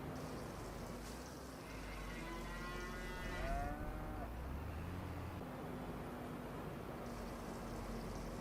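Cows in Farming Simulator 25 give one long, low moo in the middle of a steady rumble of farm ambience, with faint vehicle noise in the background.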